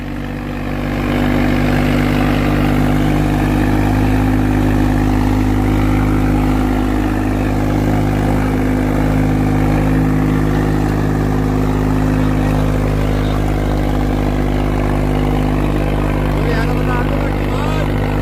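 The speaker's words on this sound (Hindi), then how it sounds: "ए बेटे पिकअप है भाई ट्रैक्टर का, दब नहीं रहा बिल्कुल भी" A heavy Swaraj 744 tractor engine rumbles steadily at close range, idling with a constant low drone throughout, while people talk over it.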